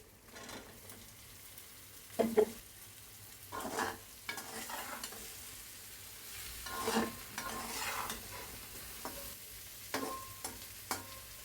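Cut eggplant and potato going into spiced oil for a tangra fish curry, a quiet sizzle broken by several stirring scrapes and clinks in irregular bursts, close but faint, with no talk.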